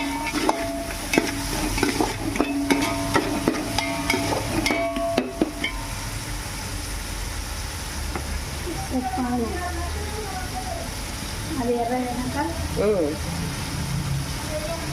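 Onions fry in a pan for an ugrani dish with spinach fritters, a steady hiss with clattering utensil knocks early on. A voice talks over the sizzle in the later part.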